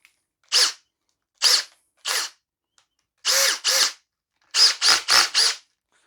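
A Makita cordless combi drill drives a screw in short loud bursts, three single pulses followed by a pair and then a quick run of four, with clear silence between each burst and no talking.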